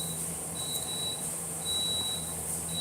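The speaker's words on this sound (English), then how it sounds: "Stop fucking beeping." An electronic alarm beeps in long, even tones, about three over a few seconds, over a low background hum with no talking.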